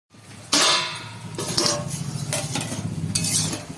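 A lid clinks down onto a pan of kalmi greens cooking with prawns, with several sharp metallic knocks and rattles close by and a faint sizzle underneath.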